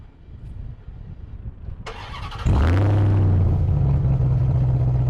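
A starter whirs briefly, then the 6.2-liter V8 of a RAM TRX 1500 pickup fires with a loud bark and settles into a deep, throaty, steady idle nearby.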